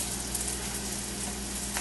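Coated green tomato slices fry in hot oil in a pan, giving a steady, close, even sizzle throughout with no talking.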